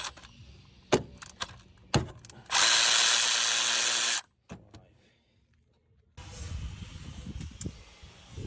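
A power tool whirs loose the manifold bolts on a Ford Transit diesel in a steady two-second burst and then a longer one, with sharp metallic clinks of tools and bolts around it, close up with no talk.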